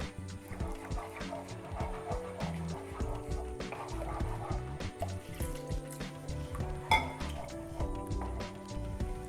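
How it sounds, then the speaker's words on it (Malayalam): A spoon stirring white sauce in a pan for pasta, with frequent light clinks and scrapes against the metal in an uneven rhythm, close and quiet, and no speech. "നന്നായിട്ട് ഇളക്കിക്കൊണ്ടിരിക്കണം."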